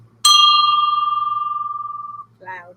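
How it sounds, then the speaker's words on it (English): A United States Navy brass bell struck once, ringing loud and clear with a pure sustained tone that slowly decays with a gentle pulsing shimmer, followed by a short burst of voice. "Miss Barbara is going to give the United States Navy brass bell a ring"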